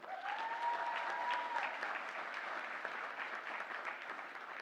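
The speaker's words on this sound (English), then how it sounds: "a round of applause again for Mrs. Powell and Mrs. Nayathi" An awards ceremony audience honoring teachers claps in a sustained, even round of applause, moderately distant and filling the room, with a faint tone drifting over the start.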